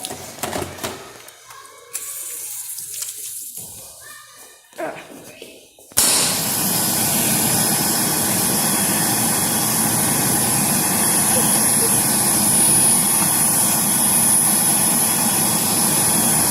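An Excel Xlerator electric hand dryer in a Virginia Zoo restroom bursts into a loud, close, jet-like roar after a quieter stretch with some talk, then runs on continuously at full force.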